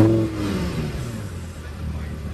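A rented sports car in Dubai idles with a deep, throaty engine rumble that starts loud and settles into a steady mid-level drone, with a voice briefly heard at the start.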